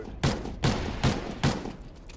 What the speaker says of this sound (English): I was shooting him at middle street with my AR